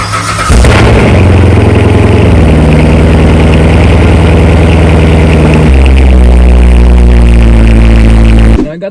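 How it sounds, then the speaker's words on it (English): A 2014 Chevy Corvette Z51 fires up from cold with a sharp crank and roar, then settles into a loud, steady, rumbling idle close by that dips slightly in pitch before cutting off abruptly. "Let me see if I can give you guys a nice cold start."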